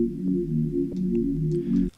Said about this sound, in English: Just sounds like unison sine waves because that's what it is.